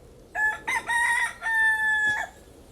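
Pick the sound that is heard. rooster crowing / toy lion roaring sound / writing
rooster crowing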